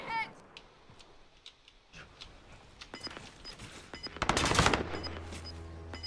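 Gunfire in Call of Duty Modern Warfare battle royale, with scattered sharp shots and a louder burst of rapid automatic fire near the end, mixed with game sounds and faint voices.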